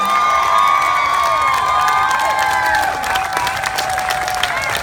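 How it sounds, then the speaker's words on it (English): A rally crowd applauding loudly and continuously, with dense close clapping mixed with cheers, whoops and shouts, and a bright whistle-like tone running through the start. "would you give them an overwhelming applause?"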